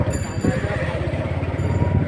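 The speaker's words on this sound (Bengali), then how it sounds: "দেখো বন্ধুরা এই ট্রেনটা না আমাদের কাজ সেটের মধ্যে যাবে" A train rumbles past nearby with a steady low rolling drone and rhythmic wheel knocks, a faint clink partway through, and a background murmur that may be voices.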